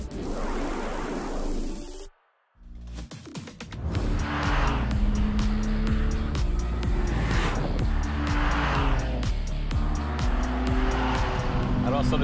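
A BMW M2 driven hard on the Mécaglisse race circuit, a loud engine note cut by a brief gap, then repeated tire squeals and rising, falling engine surges as it corners.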